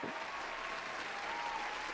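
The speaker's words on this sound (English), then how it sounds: "We got to give AFSP a round of applause" Audience applause during a suicide prevention discussion, a soft, distant, steady wash of clapping from many hands with faint voices underneath.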